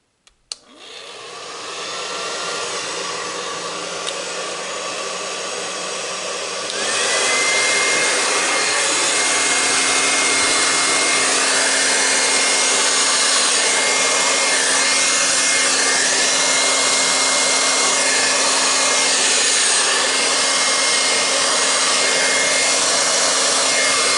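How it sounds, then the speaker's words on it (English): A hair dryer blows steadily over resin art for the whole stretch, switching up to a louder, higher setting partway through and holding there. "Now I have my blow dryer."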